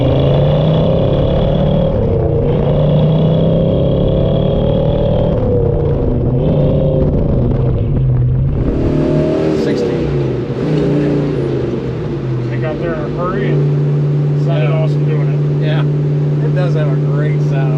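A 1969 Chevrolet Chevelle SS396 clone with a 325 hp 396 cubic inch V8 runs steadily at idle, a deep continuous engine rumble that lifts briefly as if revved, with voices talking over it.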